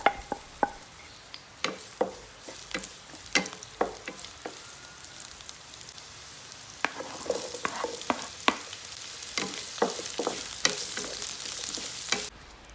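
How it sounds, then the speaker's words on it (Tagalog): Garlic and onion are sautéed in a pan for beef caldereta, with a continuous sizzle under repeated sharp clicks and scrapes of a utensil stirring against the pan, close and steady throughout. "magigisa muna tayo ng bawang at sibuyas"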